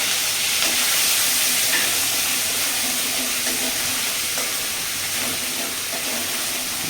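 Ginger garlic paste sizzles in hot oil after a tempering of chillies and cumin, a steady broadband hiss holding through the clip at an even level, with faint stirring clicks and no voice.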